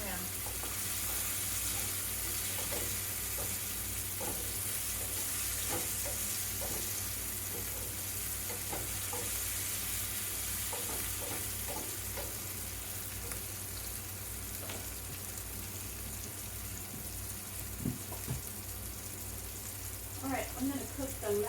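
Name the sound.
stirring seasoned food frying in a pan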